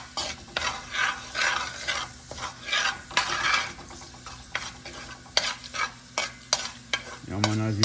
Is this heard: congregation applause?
no